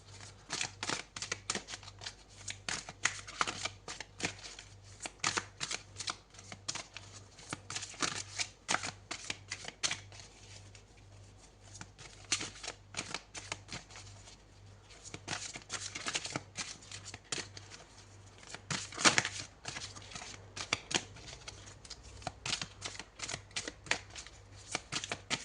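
Tarot cards being shuffled over and over, a long run of quick riffling and flicking bursts with short pauses, close and fairly quiet, no talking.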